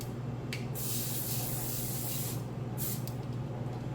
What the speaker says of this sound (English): When I spray, I'm not spraying down into it. I am spraying straight across.